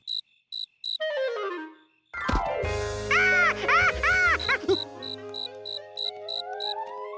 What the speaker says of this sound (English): George set the cricket free to happily hop back to his cricket home.